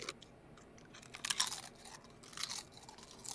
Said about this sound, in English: I just hear crunching in the background.